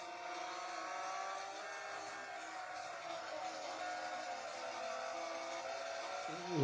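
Porsche engine in a racing game on a phone, a thin, tinny, rattling drone with a steady rising whine, played through a small speaker, close and even in level, no talking.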